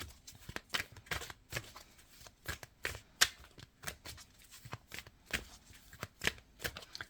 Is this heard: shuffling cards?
yes